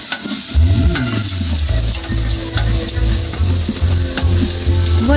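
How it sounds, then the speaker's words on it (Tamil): Ginger, garlic and pepper sauté in a pot for biryani, stirred with loud, close, rhythmic scraping strokes over a constant bright sizzle, with a faint tonal hum in the background. "இப்போ இஞ்சி வெள்ளைப்பூடு மிளகு எல்லாம் போட்டு நல்லா கலக்கவும் வதக்கவும்"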